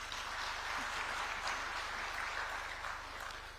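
A conference audience applauds, a dense, even patter of clapping heard from a distance that fades slightly near the end.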